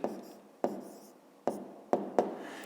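A pen writes an exercise solution by hand on paper, five distinct sharp strokes at uneven intervals, each followed by a short scratching trail, close and quiet with no talk.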